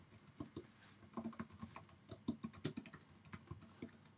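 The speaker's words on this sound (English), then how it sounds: "we simply click on our text field and we simply type in some text" Text being typed on a computer keyboard, a quick uneven patter of close, quiet key clicks that speeds into a busy burst in the middle before slowing again.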